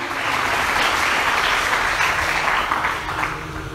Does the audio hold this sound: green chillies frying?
no